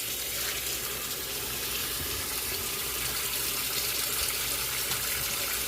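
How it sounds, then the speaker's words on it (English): Water from boiled potatoes pours steadily through a colander into a sink, a continuous close splashing gush with no pause. "I am going to pour them in the colander. Get all that water off of there. Just rinse them off a couple of times."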